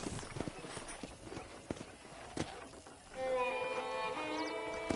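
Rhythmic hoof clip-clop of a horse being ridden in the video game Red Dead Redemption on a ranch, steady hoofbeats at close range, with a soft whinny-like tonal sound near the end and no talk.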